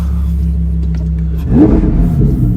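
A Lamborghini engine idles with a low steady rumble, then revs sharply into a louder, rising growl that holds for about a second before easing back.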